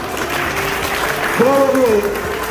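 An audience at a Jain kalash sthapna ceremony in Katni, Madhya Pradesh, claps in a brief, continuous burst, with a person's voice rising briefly over the applause.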